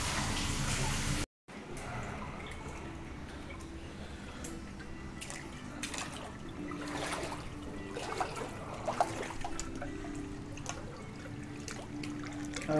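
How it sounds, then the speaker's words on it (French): Small waterfall trickling at a Japanese onsen, a soft, continuous patter and drip of water heard close by, with scattered splashes, faint voices and a brief dropout near the start. "avec la petite cascade."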